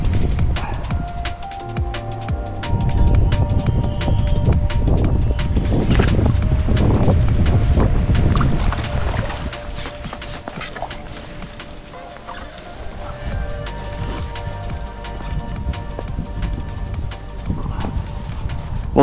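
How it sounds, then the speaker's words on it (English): Cold winter wind blows across a fishing lake during a match, a heavy gusting roar buffeting the microphone, loud and continuous with surges and lulls, faint voices underneath. "That wind's really cold now. It's blowing straight in."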